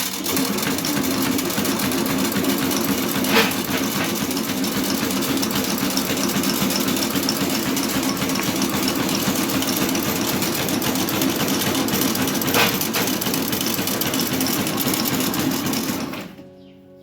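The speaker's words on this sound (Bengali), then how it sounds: "আর এই দিকে দেখুন এই যে মেশিনে ধূপকাঠি তৈরি হচ্ছে।" An incense stick making machine runs steadily at an ashram, a continuous loud mechanical whirr with a rapid rhythmic clatter that holds evenly for about sixteen seconds before cutting off.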